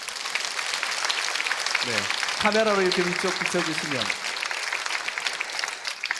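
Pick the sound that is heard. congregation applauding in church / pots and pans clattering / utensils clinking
congregation applauding in church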